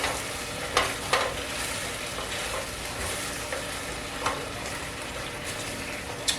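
Sweet and sour pork with vegetables, glazing in a hot pan, sizzles steadily while a utensil stirs it, scraping now and then in a few sharp knocks over the continuous frying hiss.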